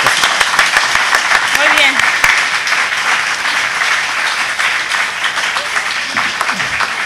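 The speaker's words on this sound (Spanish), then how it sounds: "Ahora sí podemos pasar a dar unos aplausos a los compañeros." Audience applause at the close of a candidates' debate for a district deputy seat, a steady wash of many hands clapping throughout, with a voice speaking briefly over it near the start.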